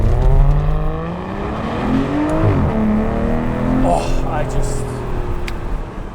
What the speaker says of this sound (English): Let's see if we can accelerate with the ESP on a little bit better.